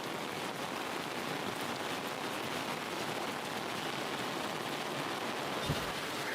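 Steady rain falls at night at a wilderness campsite, a continuous even hiss with no letup and a faint thump near the end.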